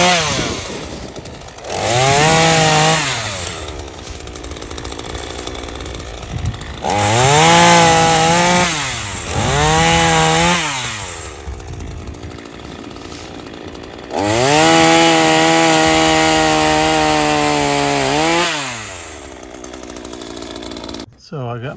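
A chainsaw cuts wood in several long bursts, its engine revving up loud and close, dropping to idle between cuts, then winding down near the end.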